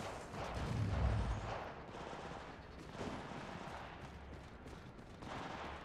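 Rapid gunfire bursts in Apex Legends Mobile team deathmatch, with Gibraltar in play, crackling as repeated volleys of shots under a dense, noisy battle mix without speech.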